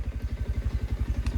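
A motorcycle engine runs nearby with a fast, even, throbbing putter of regular pulses, fairly loud and with no voices.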